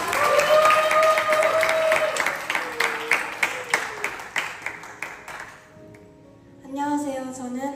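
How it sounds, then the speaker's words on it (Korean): Applause from a church audience at a testimony night welcoming a student missionary: dense, steady clapping for about five seconds under a voice and background music, then fading out before a voice resumes alone. "박수로 환영해주세요."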